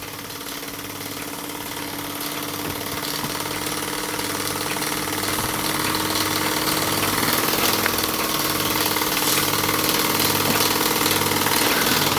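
A small wobbler model steam engine runs on steam with a steady, quiet, even chugging and faint mechanical vibration throughout, continuous and close.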